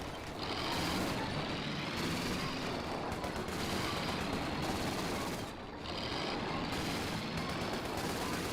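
Suppressive machine-gun fire in Company of Heroes 2, a World War II strategy game, with rattling bursts of automatic fire running continuously behind a quieter battlefield din, with a brief dip partway through.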